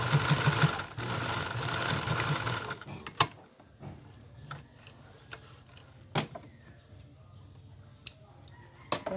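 A small portable, non-high-speed sewing machine whirs in a steady mechanical rattle of zigzag stitching for a few seconds, then stops, leaving faint clicks and taps in a quiet room.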